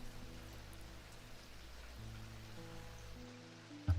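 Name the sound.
rain falling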